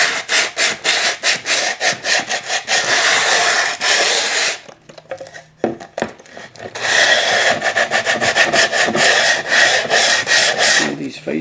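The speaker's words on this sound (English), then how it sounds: "Right, so the next part to do is to sand these edges." Edges of a wooden bridge model being sanded, loud rhythmic back-and-forth rasping strokes close up, pausing briefly midway with a few light knocks before the steady strokes resume.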